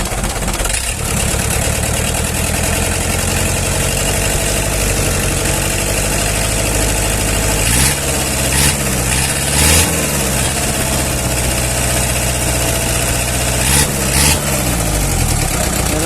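A Mitsubishi 4D31 diesel engine idles steadily on test with a low, rumbling drone, close and loud throughout, with a few brief knocks and shifts in tone.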